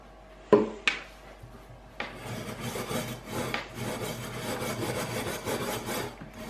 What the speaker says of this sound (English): take a piece of steel wool and I'm just going to give them a scrub